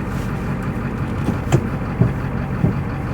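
A 7.3L IDI diesel OBS Ford one-ton dually truck runs with a steady, deep, close rumble, broken by a few dull clunks.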